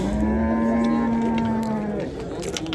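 Cattle at a livestock market in Shahrituz, where young bulls are traded, give one long, loud moo lasting about two seconds. It rises over a continuous crowd murmur, then fades back into it.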